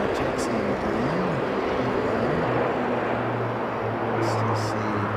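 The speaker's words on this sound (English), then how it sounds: "So this taxiing down." An airliner taxis at Sydney airport, a steady broadband engine roar with a low droning hum running throughout, with a person talking over it.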